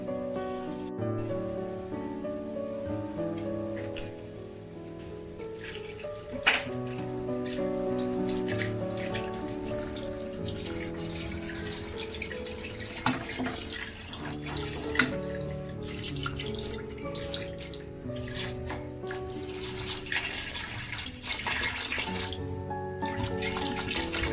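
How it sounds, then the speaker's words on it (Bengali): Water poured into mashkalai dal in a cooking pot, a continuous close rushing pour with splashy texture lasting throughout. "এখন আমি এতে পানি দিয়ে দিচ্ছি।"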